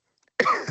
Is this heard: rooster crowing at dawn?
no